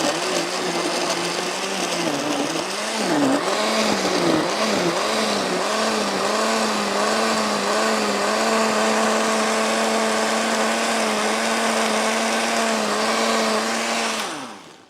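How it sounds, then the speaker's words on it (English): A blender runs steadily at close range for about fourteen seconds, a loud whirring motor drone with a brief wobble in pitch early on, then it cuts off at the end. "me make sure the camera can see this blender"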